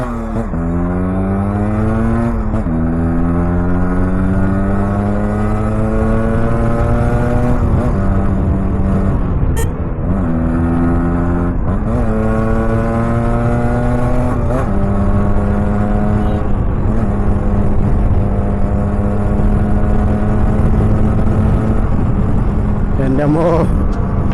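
A Yamaha RXZ 5-speed motorcycle engine drones loudly and close up while riding on an open highway, its pitch climbing and then dropping repeatedly through gear shifts, with a rider talking over the engine.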